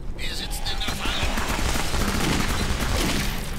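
Rapid bursts of gunfire from the video game Clive Barker's Jericho crackle continuously, loud and dense, with overlapping shots and no pauses.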